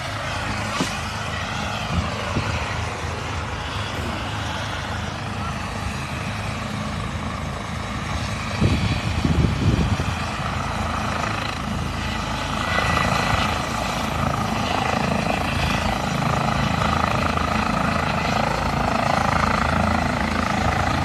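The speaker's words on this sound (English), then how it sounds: "You can tell the helicopter is getting ready to take off." A helicopter taking off, its engine and rotors roaring steadily and loudly throughout, with a thick low rumble and a brief louder thump partway through.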